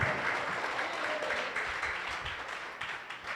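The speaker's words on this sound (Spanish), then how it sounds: "¿Cuántos pueden aplaudir al Rey de Reyes, al Señor?" A church congregation at a retreat claps together in praise, a thick and continuous wash of hand claps that fills the room and slowly tapers toward the end.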